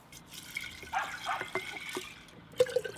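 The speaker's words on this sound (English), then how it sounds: "then I will add 6 cups cold water" Cold water is poured into an 8-cup glass jar for schisandra (omija) punch, a soft trickling and splashing stream with a few louder drips and a brighter splash near the end, close and quiet with no talk.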